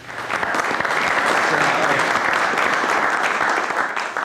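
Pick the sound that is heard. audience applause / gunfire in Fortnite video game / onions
audience applause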